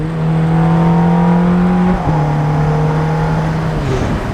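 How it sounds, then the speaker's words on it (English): Ferrari F430's 4.3 liter V8 drones loud and steady from the exhaust while driving, holding a sustained tone that shifts pitch partway through and dips briefly near the end. "You just can't beat the exhaust on a Ferrari"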